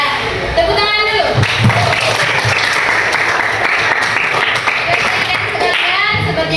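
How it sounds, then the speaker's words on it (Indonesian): Classroom applause from students, sustained and fairly loud, a dense wash of clapping lasting several seconds with voices mixed in. "Ya, tepuk tangan dulu."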